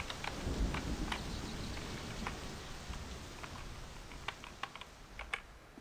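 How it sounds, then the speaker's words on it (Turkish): Steady rain hiss in the driving game My Summer Car, with scattered sharp ticks and clicks on top, quiet and continuous, with no voices. "Ne oluyor ya yağmur?"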